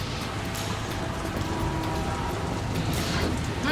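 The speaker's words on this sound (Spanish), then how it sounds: "Se acabó la lluvia." Steady, dense rain in the Metal Gear Solid 2 video game, heard up close as a continuous hiss and patter with a faint low rumble, with no voices.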